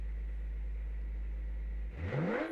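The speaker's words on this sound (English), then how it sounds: "Rev your engine if you are." A rally car in the BeamNG driving game idles with a steady low drone, then sharply revs near the end, its pitch climbing quickly.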